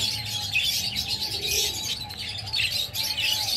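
Home-bred lovebirds and young chicks in cages chirp and tweet in a continuous light chatter, with overlapping high calls at moderate distance over a low background hum.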